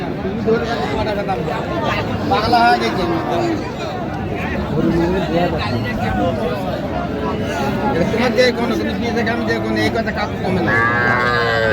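Amid busy crowd chatter at Raniganj cattle market in Dinajpur, dairy cows low now and then, the moos partly buried under the surrounding voices.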